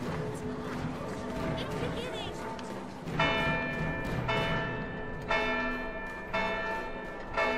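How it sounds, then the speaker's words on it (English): Church-style bell tolling in the video game Final Fantasy 12, in the royal city of Rabanastre, with resonant strikes repeating at roughly one-second intervals over a busy game soundscape, voices murmuring beneath. "Ring the bell."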